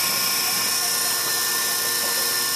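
A two-stage filter cart pumps contaminated diesel with a loud, steady motor whine and a high, continuous pump tone that never changes pace, with no break and nothing else heard over it.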